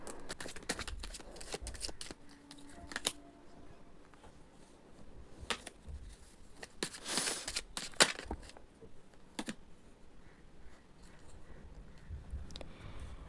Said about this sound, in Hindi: सबसे पहले कार्ड निकाल लेते हैं।